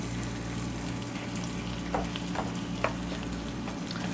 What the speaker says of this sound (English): let's get our eggs and cheese scrambled up